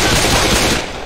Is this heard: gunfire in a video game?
yes